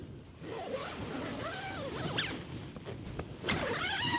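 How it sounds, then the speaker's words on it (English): Zips on the door of a double-skinned Nortent Ly 1 tent are pulled along their tracks in several quick, smooth rasping strokes, close to the microphone, with faint outdoor wind beneath. "nice smooth zips"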